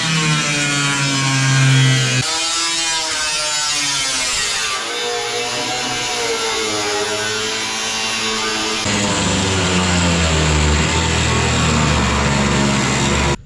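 An angle grinder whines loudly and continuously cutting truck bed metal on a Ford, its pitch shifting as the cut progresses, harsh and close with no voices.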